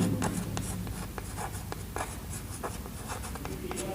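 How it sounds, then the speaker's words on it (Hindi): Chalk or marker strokes on a lecture board during a physics class make short, close scratches and taps in a quick rhythm, loud and clear with no speech over them. "ये मैं लिख देता हूं।"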